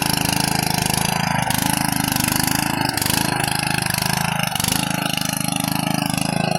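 A tractor engine with a farm implement attached runs steadily on a Konkan farm, a loud, continuous mid-pitched drone with a few small dips and no talk over it.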